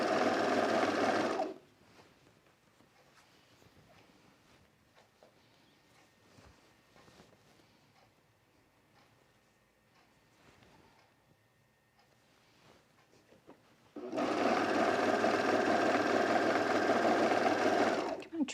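A serger sewing machine with its blade dropped trims the edge of pajama-pant fabric, running in a loud, dense burst at the start, then quiet handling for about twelve seconds, then a second steady run near the end.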